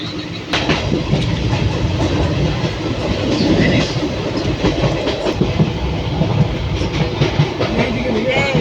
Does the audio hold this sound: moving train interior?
yes